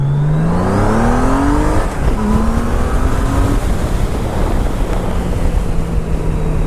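A Valkyrie 1800cc roadster motorcycle engine revs loud and close, its pitch climbing through several gear pulls with steady wind rush over the top.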